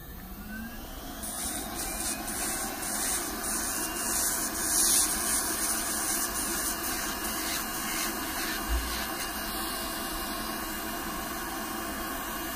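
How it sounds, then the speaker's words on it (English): Electric nail grinder filing down a long, thick, green toenail, a steady whirring hiss that runs unbroken and fairly quiet throughout, with faint scraping grit as the bit works the nail. "So I'm gonna have a grinder coming."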